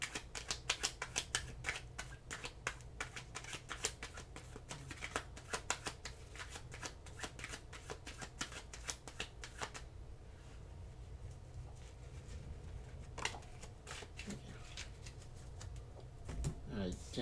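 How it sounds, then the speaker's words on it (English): A deck of oracle cards being shuffled in a tarot-style reading, a soft continuous riffling flutter of cards close by, with a quieter pause before a few last shuffles. "Let's get your last oracle card here."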